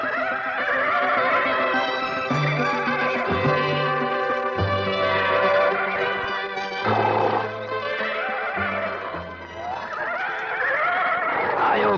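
A Mongol horse neighs and whinnies loudly and close, in several drawn-out calls over a steady background of music.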